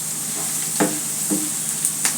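Garlic, turmeric and chili spices frying in oil, a steady soft sizzle with a few sharp stirring scrapes, close by and with no voices.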